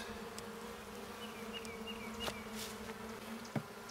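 Steady buzzing of many honeybees close by at an open hive during a spring inspection, a continuous droning hum with individual bees flitting past, no voices.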